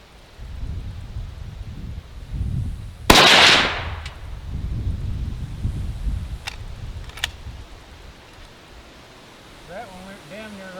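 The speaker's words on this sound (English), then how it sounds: "Let me shoot one more." A single sharp rifle shot cracks out at an outdoor shooting range, loud and close, with a short rumbling tail fading into wind noise; people talk before and after it.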